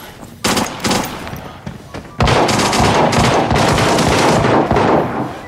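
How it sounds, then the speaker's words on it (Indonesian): Loud gunfire in the video game Arena Breakout: a few separate bursts early, then sustained rapid automatic fire rattling continuously for several seconds, close and dense. "Siapa sih yang tembak-tembakan?"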